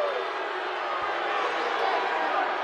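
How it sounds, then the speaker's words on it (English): Basketball crowd at Diddle Arena, Western Kentucky, reacting to a foul call on a blocked shot: a steady, dense roar of voices and jeers that stays loud and unbroken throughout. "this Diddle Arena crowd did not like that at all"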